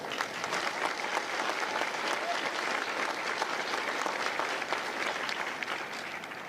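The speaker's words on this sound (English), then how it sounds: "Ladies and gentlemen, a round of applause for our recruiters and combat instructors." A crowd applauds recruiters and combat instructors at a Marine Corps recruit graduation at MCRD San Diego, producing a continuous, even wash of clapping at a constant level throughout.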